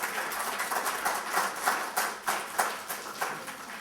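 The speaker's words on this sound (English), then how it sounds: "I think we should give our speaker a great round of applause" A small audience claps for a speaker, a thin, moderately quiet patter of hands with individual claps standing out in a loose rhythm.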